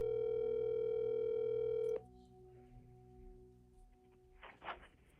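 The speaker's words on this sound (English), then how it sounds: "let's give Michael a call and hear his haunting thoughts" A steady telephone dial tone holds for about two seconds and then cuts out, leaving a quiet line with faint tones and a short burst of noise as the call connects toward voicemail.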